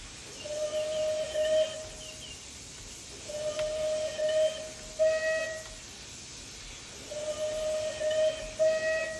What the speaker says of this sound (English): Okay, so we've got multiple B key whistles. I'm going to cycle through them all.